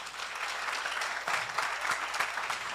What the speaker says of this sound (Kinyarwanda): Ariko munyemerere tubanze tubakomera amashyi.